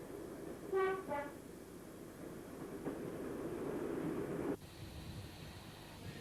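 Diesel multiple unit train on the Huddersfield to Sheffield line in the early 1970s, two short horn toots near the start, then a steady rumble of the running train that drops away abruptly toward the end.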